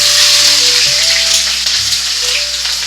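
Green chillies and onions frying in a pan for a pesarattu curry, a steady close sizzle and crackle of hot oil throughout, with faint tonal hum beneath and no talk.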